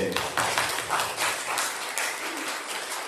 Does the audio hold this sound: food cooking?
no